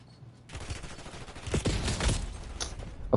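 Rapid bursts of automatic gunfire from a Call of Duty Warzone match crackle in close succession, building in loudness, then end in a final sharp shot.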